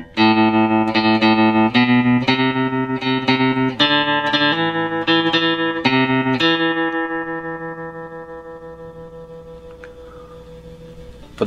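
An electric guitar plays a riff with reverb and echo: a run of bright, evenly picked twangy notes, then a final chord left ringing and slowly fading.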